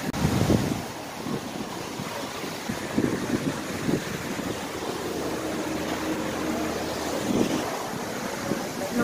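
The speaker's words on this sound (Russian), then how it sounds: "Вода с фонтаном на лицо." Fountain water splashing and spraying at Lake Kaban in Kazan, a steady loud broadband wash with gusty wind noise across the microphone, near and continuous without talk.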